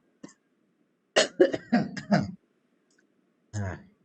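A short series of harsh coughs, close and fairly loud, followed after a pause by one more cough.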